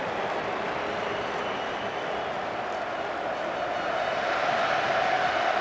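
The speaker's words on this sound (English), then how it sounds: "The good folk of South Wales trying to cheer their team on to greater heights" A football crowd of South Wales fans roars in a steady, broad wash of cheering and applause from a large stadium, holding continuous and slightly swelling toward the end.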